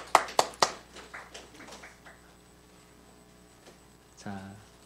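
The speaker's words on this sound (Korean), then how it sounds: "자, 박수해 주시기 바랍니다." A church congregation applauds briefly at a confirmation ceremony in a Korean Sunday service: a few sharp, close claps that quickly thin out and fade into quiet, followed by a voice starting to speak.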